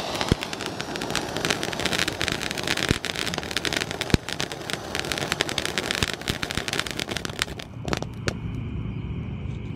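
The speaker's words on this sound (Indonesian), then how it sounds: "Dan ini penutupnya mercon box 25 shot." A 25-shot roman candle firework box fires a dense, rapid run of crackling pops and bangs at a steady mid distance, with the barrage thinning out near the end.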